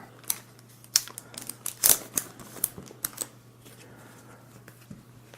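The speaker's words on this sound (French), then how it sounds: "Et nous allons terminer par le dernier paquet. On va ouvrir tranquillement." A Panini Fortnite trading card pack torn open and its cards handled up close, with crisp crinkles and sharp snapping clicks clustered in a few bursts before the sound settles into quiet, under a faint steady hum.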